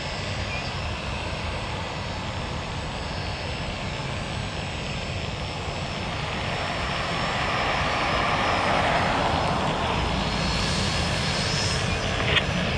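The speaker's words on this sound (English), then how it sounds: "one right, clear for takeoff." Southwest airliner taking off from runway one right at Tampa International Airport, a broad steady engine roar that swells slightly louder toward the end, with no talk over it.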